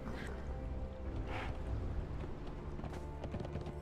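Horse hooves clip-clopping in the Conan Exiles video game, faint rhythmic footfalls with a soft ambient game backdrop and no speech.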